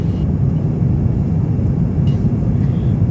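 Inside the cabin of a Cathay Pacific A350-900 before landing at Hong Kong, a dense, steady low engine and airflow roar fills the space without letup.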